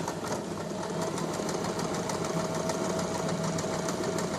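A sewing machine stitching a straight seam across the top of folded fabric, a fast, even mechanical chatter of the needle running continuously, close and loud with no talking.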